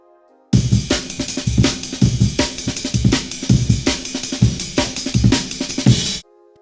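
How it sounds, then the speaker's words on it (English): The Amen break drum sample, set for a jungle track at 163 BPM, plays alone as a loud, busy breakbeat of punchy kicks, snappy snares and bright cymbals in a rapid, syncopated rhythm, then stops dead. "That's the Amen break, and it sounds like this."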